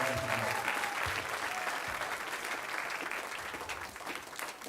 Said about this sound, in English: just everybody give a round of applause for our band boosters